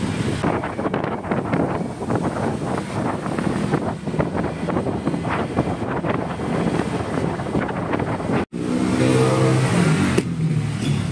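Cars move along a street in Marikina after Typhoon Carina's flooding. Steady engine and tyre noise passes nearby, while heavy wind buffets the microphone throughout, with a brief dropout near the end.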